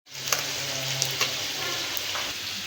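Steady crackling sizzle of fish frying in hot oil, continuous and close, with a few sharper pops along the way.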